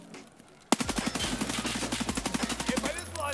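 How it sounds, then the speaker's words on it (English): Automatic gunfire erupts in Escape from Tarkov Arena. A sudden loud burst opens into a rapid, evenly spaced stream of shots for about two and a half seconds, then the shooting cuts off. "Stop shooting at me, boys"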